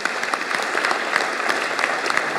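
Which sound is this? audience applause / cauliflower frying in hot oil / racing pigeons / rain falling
audience applause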